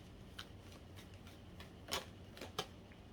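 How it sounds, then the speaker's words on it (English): Tarot cards drawn from a deck, heard as soft, close papery flicks and slides with a few sharper snaps, faint against a low background hum. "Let's get 3 cards out of this deck."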